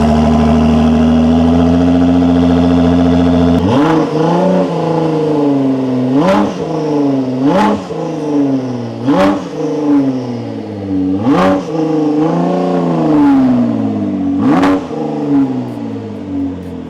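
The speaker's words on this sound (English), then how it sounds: "listen to this car on startup" A Ford GT sports car engine fires up into a loud idle, then revs sharply several times in repeated surges, close and powerful.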